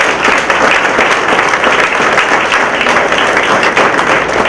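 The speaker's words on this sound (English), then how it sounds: "Let's give our candidates another round of applause." An audience at a district attorney candidates' forum held at the Suffolk House of Correction gives a loud, dense round of applause that stays steady throughout the short stretch, with no voices over it.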